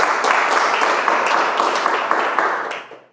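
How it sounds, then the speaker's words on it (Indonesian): A large indoor audience at a business seminar claps loudly in a dense, sustained burst with rhythmic accents, then the applause fades out quickly at the end. "Tepuk tangan buat Anda semua"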